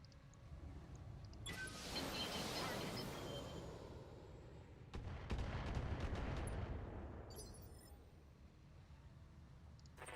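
Heavy mech weapons fire rolls through a Battletech battle in two long, rumbling bursts of gunfire and explosions, loud and dense, fading between volleys.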